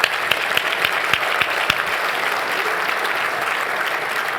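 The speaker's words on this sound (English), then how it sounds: "let's have a round of applause for our sponsors" Sustained applause from an audience at an award dinner, honouring the sponsors: dense, steady clapping from a large crowd in a hall, with a few sharper nearby claps standing out at the start, continuing evenly throughout.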